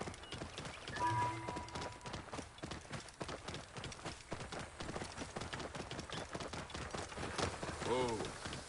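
Rapid rhythmic hoofbeats clop along steadily under music and game sounds, with a brief whinny near the end.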